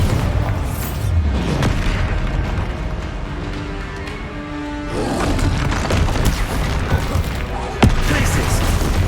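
A Bombarda spell goes off in the video game Hogwarts Legacy as a loud, deep booming blast with a rumbling tail, set against constant in-game noise and a dense action soundscape.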